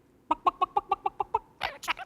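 A performer's voice imitates a chicken clucking, eight quick evenly spaced clucks followed by a couple of louder, rougher squawks, close and clear with no talk over it.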